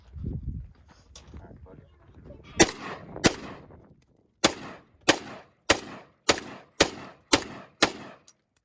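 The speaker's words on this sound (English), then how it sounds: "So wifey and you know, and friends shot the AK before I did." AK rifle firing at a target outdoors: about nine sharp, loud single shots spaced evenly a little over half a second apart, with a few scattered earlier reports and low voices just before the shooting.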